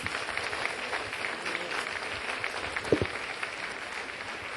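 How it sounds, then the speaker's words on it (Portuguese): A church congregation claps in welcome for a bishop and a pastor, steady crowd applause from many people at moderate volume with a brief sharper knock near the end. "vamos receber a Bispa Solange e o pastor Maurício, agradecendo a Deus, dando a ele uma grande salva de palmas"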